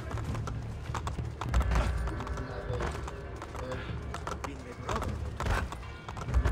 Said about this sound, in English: panicking horse needs to move along